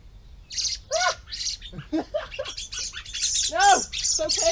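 A blackbird calls in a garden with a string of nearby squawks and chirps, repeated in short bursts and fairly loud, with no talk over it.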